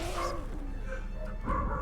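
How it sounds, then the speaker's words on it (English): Dogs downstairs in a house yip and bark in short bursts, muffled and somewhat distant, with a whimpering tone over a low steady background. "I know you can hear my dogs downstairs."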